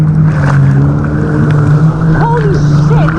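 A jet ski engine hums steadily and loudly on open water, close by, while people talk in short bursts over it.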